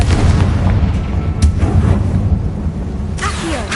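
A fire-blast spell in the Hogwarts Legacy video game sets off a chain of heavy, rumbling booms and sharp bursts, loud and close, with no talking.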